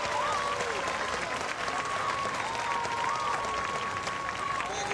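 A large crowd applauds loudly and continuously as Atlanta mayor Andrew Young is introduced at an event honoring the Hawks, a thick wash of clapping with whistles and cheering voices mixed in.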